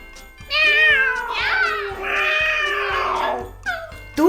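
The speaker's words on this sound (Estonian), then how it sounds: "Kasside häälitsus erinevates keeltes." Several cats meow in succession, a run of drawn-out, rising and falling mews that sound close and fairly loud, with a brief sharper cry near the end and no talking over them.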